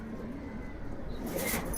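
Fancy pigeons in a farm loft coo softly and continuously at close range, a low, rolling murmur with a brighter, hissy rustle rising toward the end.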